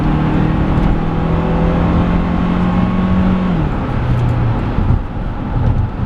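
A 2006 Honda CR-V SE engine holds a steady drone, then its pitch drops and climbs again as the vehicle kicks down and accelerates hard, loud and close.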